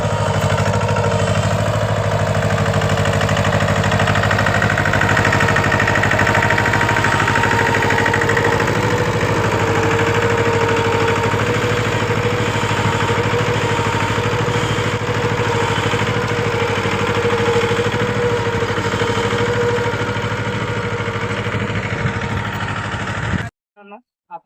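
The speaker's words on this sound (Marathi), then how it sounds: "आपण कॅप्टन ट्रॅक्टरचा डेमो घेतलाय" A Captain tractor runs during a field demo trial in Niphad taluka, its engine a loud, steady, close drone with a constant low hum that carries unbroken for over twenty seconds before cutting off abruptly.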